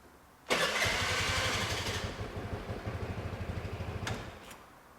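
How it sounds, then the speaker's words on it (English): A Vespa scooter started with a newly cut key: a sharp starter whir kicks in and the small engine catches, then settles into a fast, even putter for several seconds before cutting back, close and loud. "And now this key should start the scooter"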